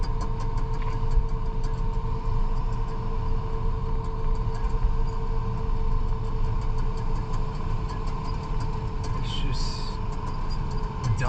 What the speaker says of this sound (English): I got a truck coming up on this 2-lane